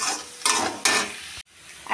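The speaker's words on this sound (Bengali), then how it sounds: "আর এই দেখো এখানে কিন্তু আমি আলু ভাজা করছি।" Potatoes frying in a pan for a home-cooked rice meal, loud close sizzling in surges with stirring and a clink of utensil, cut by a brief drop to near silence.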